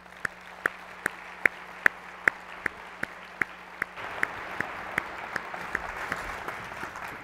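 An audience applauds as panelists are welcomed onto the stage at an entrepreneurship panel session. Crisp, evenly spaced claps stand out over a soft wash of clapping, which swells slightly toward the end.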